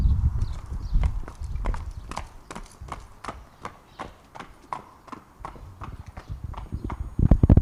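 Horse hooves trot in a steady, regular clip-clop rhythm on hard ground during a veterinary flexion test, with a dozen or so evenly spaced beats that are fairly close and clear, and louder movement at the very end.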